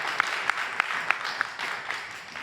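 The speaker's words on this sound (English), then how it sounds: "can we give him a round of applause?" A small audience gives brief applause, with a handful of sharper claps standing out at a fairly regular pace before the clapping thins and fades toward the end.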